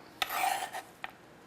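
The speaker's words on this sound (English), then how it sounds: "So we'll toss a handful of nuts in there" A handful of nuts tossed into a bowl, a short close rattle and rasp lasting about half a second, followed by a brief faint clink, heard alone.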